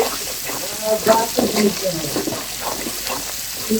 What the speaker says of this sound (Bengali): এখন আমি একটু নেড়ে চেড়ে নেব